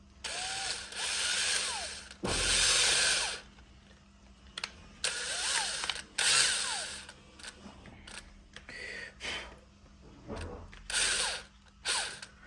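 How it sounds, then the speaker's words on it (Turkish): A power drill with a 5 mm bit whines in repeated short bursts boring into a plastic motorcycle helmet visor part, starting and stopping several times with pauses between, close and fairly loud. "5 milim bir matkapla güzelce deliğimizi açalım kırdırmadan dikkatlice tam ortalığı"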